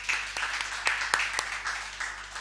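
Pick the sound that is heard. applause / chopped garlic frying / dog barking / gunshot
applause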